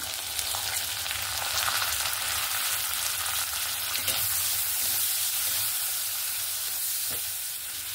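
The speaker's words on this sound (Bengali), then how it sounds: "এবার আমি পেঁয়াজ কুচি আর কাঁচা লঙ্কা দিয়ে দেব।" Onions and chillies fry in oil with a dense, continuous sizzle, punctuated by occasional soft stirring sounds; no one speaks.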